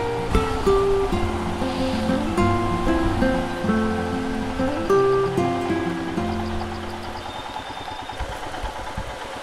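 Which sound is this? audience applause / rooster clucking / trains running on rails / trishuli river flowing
trishuli river flowing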